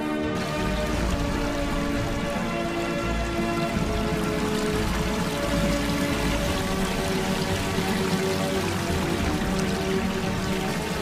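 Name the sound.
waterfall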